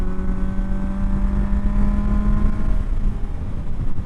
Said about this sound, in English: It accelerates with no issues whatsoever with these pod filters.